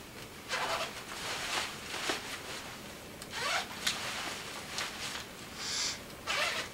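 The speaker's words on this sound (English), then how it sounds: "grab the zipper pull here inside the pants, unzip all the way around the waist" Removable liner of Scorpion ExoWear Savannah motorcycle pants being unzipped around the waist, a series of short raspy zipper pulls in bursts, close and fairly quiet, with no talking.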